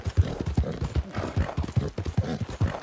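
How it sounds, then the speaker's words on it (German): Horse galloping in the video game Red Dead Redemption 2, a loud, close, rhythmic drumming of hooves that keeps steady throughout, with faint voices occasionally underneath. "Ich glaube, das Pferd ist eben doch relativ schnell."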